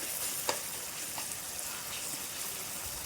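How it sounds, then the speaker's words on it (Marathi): Tomatoes softening in hot oil for a Marathi Bhogi vegetable dish give a steady, close sizzle with a couple of faint stirring scrapes, no voices. "टोमॅटो फक्त मऊ आपण हे परतून घेणार आहे"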